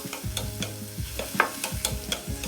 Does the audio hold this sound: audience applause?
no